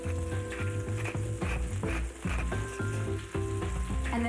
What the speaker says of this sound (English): And then I'm going to add my onion.